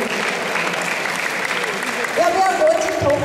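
Audience clapping at a school lecture on cherishing life, a dense sustained round of applause in a hall that swells toward the end.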